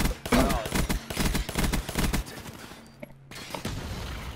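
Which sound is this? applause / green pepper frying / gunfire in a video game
gunfire in a video game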